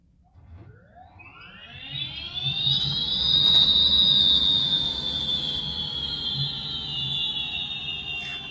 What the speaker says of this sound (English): power this QS motor on and see what it sounds like